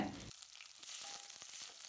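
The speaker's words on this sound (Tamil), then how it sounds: "வெங்காயத்தை சேர்த்து நல்லா வதக்கி விட்டுக்கலாங்க" Soft, steady sizzle of onions frying in hot oil, with faint crackles and a few light stirring clicks.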